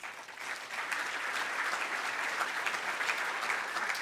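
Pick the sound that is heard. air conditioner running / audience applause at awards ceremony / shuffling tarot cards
audience applause at awards ceremony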